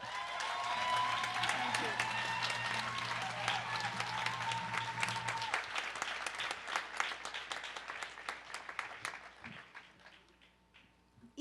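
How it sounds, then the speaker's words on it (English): A large college commencement crowd gives a sustained round of applause, dense clapping that holds strongly and then gradually thins and fades out. "So one more round of applause."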